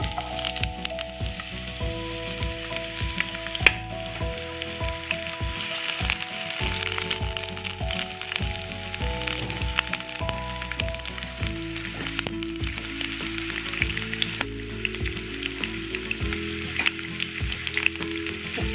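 Two medium-sized onions frying in hot oil for a restaurant-style tarka, giving a loud, continuous close sizzle and crackle throughout, with no speech.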